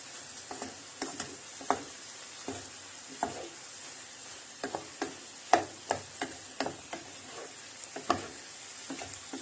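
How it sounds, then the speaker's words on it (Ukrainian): Garlic stirred in a frying pan, with repeated sharp spatula scrapes and taps over a quiet background sizzle, close up, no talking. "І трішки додам чеснику. Так, перемішуємо."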